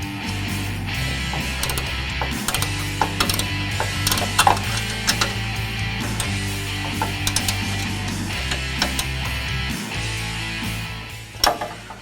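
Ratchet clicking steadily while tightening bolts on a Rigid Industries bumper cube light mount on a 2015-2017 Ford F-150, with repeated close mechanical ratcheting strokes over a low continuous hum.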